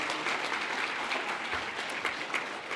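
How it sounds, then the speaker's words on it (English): An audience at a Silver Stars event claps steadily, a dense, even patter of many hands with faint cheering that holds at a moderate level throughout. "let's give our stars a big round of applause and cheer ourselves on"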